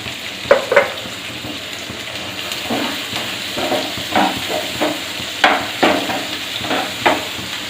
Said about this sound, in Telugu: వేసి ఉల్లిపాయ ముక్కలు బాగా వేపుకోవాలండి